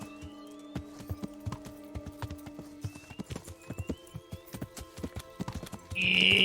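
Horse hooves in Kingdom Come: Deliverance clip-clop in a steady trotting rhythm over a low musical hum, ending with a loud rushing burst.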